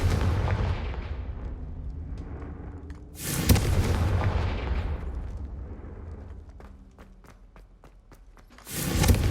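The explosive Confringo spell is cast in the video game Hogwarts Legacy, with booming blasts and a rumbling, decaying roar, followed by sharp crackling pops and a final loud burst.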